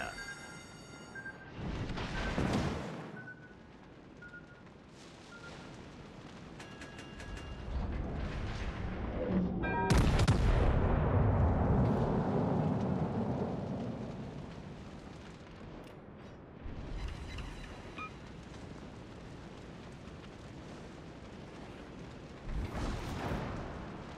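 Warship naval guns firing in a video game, heavy booming blasts with long rumbling decay, spaced out over the clip alongside quieter mechanical effects.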